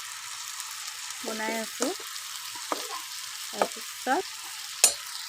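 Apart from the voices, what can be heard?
ridge gourd and potatoes frying in a wok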